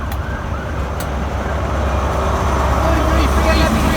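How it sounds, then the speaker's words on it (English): An ambulance siren wails from a distance over the low rumble of traffic near a bridge, and people talk beneath it. "Ambulance stopped on the bridge"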